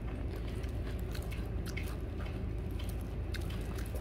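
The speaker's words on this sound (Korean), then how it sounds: "오, 씹히는 소리가 여기까지 들려." Someone chews a crunchy raw salad of kohlrabi and sweet potato close to the microphone, with soft continuous bites and moist crunching at a quiet level.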